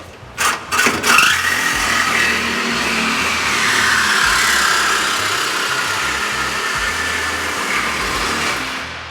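A Ford F-150 pickup engine cranks and catches with a few sharp blips, then settles into a loud, steady rumbling idle close by, no voices.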